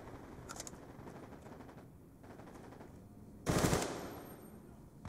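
Peacekeeper submachine gun firing in the Black Ops 2 video game: a rapid automatic burst that rattles briefly, then one loud, dense volley near the end over a steady game background.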